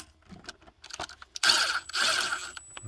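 A ratchet works on the 13mm bolts of the power steering pump on a Jeep Grand Cherokee 4.0 inline six. Soft, sparse clicks lead into brisk, close ratcheting bursts.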